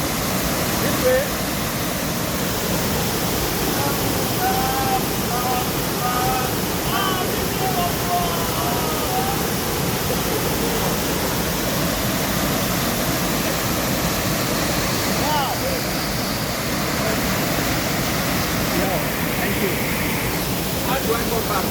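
Ibom Waterfalls at Arochukwu, a steady, loud broadband roar of falling water that fills the whole stretch without pause, with faint voices and birdlike chirps mixed in beneath the rush.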